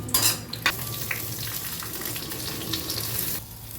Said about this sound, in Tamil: இப்போ கடுகு பொரிஞ்ச உடனே இந்த தாளிப்பெல்லாம் போட்டுடலாம்